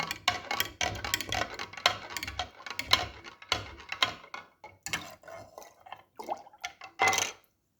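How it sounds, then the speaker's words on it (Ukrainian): Salted whey brine poured over homemade feta cheese in a container, with uneven splashes, drips and light clinks of the vessel fading into scattered trickles and a final brief splash. "І заливаємо нашу майбутню фету."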